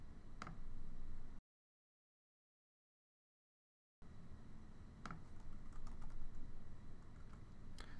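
Quiet typing on a computer keyboard while setting up an iOS app project: soft, irregular key taps, broken by a silent pause of a few seconds before the clicking resumes.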